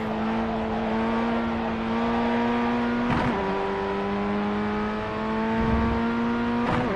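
Car engine in first gear after a downshift on a racing circuit, a steady loud drone with rising harmonics and a short surge near the middle and end, no talking.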